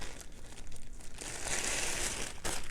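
Craft tape being pulled apart for journal tags gives a quiet run of crinkly, papery rustling and peeling, with a brighter tearing burst toward the end, close and soft with no talk.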